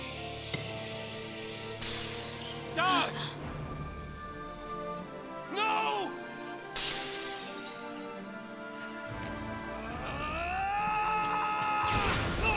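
Glassy shattering bursts and bright crashing effects in the Final Fantasy XIII video game, several sharp loud hits laid over sustained game music with swooping tonal sweeps.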